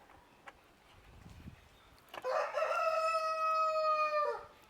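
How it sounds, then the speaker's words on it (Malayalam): A rooster lets out one loud, close, drawn-out crow near a house, rising and holding before breaking off, after a quiet stretch with faint background noise. "കോയിന്ന് പെരും കൂവലാണല്ലോ."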